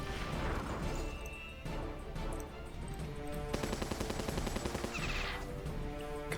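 Tank attack in the Battle Nations strategy game: a dense barrage of heavy impacts and rapid gunfire bursts over a continuous battle soundtrack, with a sharper cluster of hits near the end.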